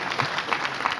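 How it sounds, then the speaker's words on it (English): A brief burst of audience clapping at a live event in Kenya, moderately loud and fairly uniform over about a second. "Let's give him a round of applause."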